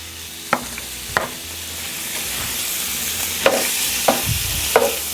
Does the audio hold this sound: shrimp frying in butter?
yes